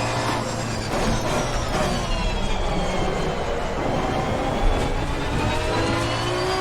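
Racing car engine in Assetto Corsa Competizione, a sustained high whining drone with shifting tones that rise and fall, fairly quiet and steady with no talk.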